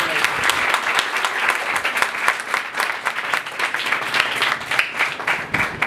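Congregation at a Last Supper church service giving loud, enthusiastic applause, dense rapid clapping from many hands close by, sustained evenly for several seconds.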